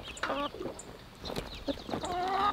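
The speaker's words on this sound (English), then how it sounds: "This just got opened and all the chickens escaped." Several chickens cluck and squawk nearby in short, irregular bursts over a faint background hum.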